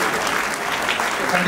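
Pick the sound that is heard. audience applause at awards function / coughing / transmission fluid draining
audience applause at awards function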